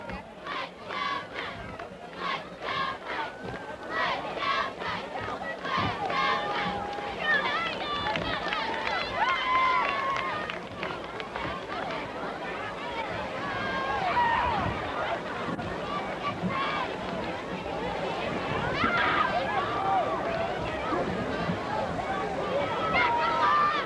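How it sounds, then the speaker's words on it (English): Crowd at Hale Stadium during a 2005 Knights football game, a sustained roar of cheering and shouting that swells and falls over about 24 seconds, with voices mixed into the din. "It appears the Knights crowd has gotten quite into the game lately."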